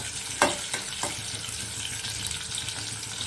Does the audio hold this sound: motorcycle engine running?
no